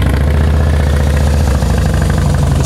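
A Harley-Davidson Deluxe FLSTN with a 96-inch motor and 6-speed idles close by, a loud, steady, lumpy low rumble with a throbbing cadence that stays unbroken with no talk.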